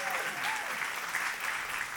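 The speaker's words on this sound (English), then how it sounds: "Big round of applause for Sassy because she is an amazing storytel" An audience at a live storytelling show applauds warmly in a steady, dense round of clapping, with a voice faintly audible over it.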